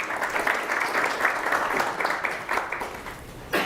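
Audience applause fills a lecture hall at a scientific talk, dense steady clapping from many hands that swells and dips for a few seconds.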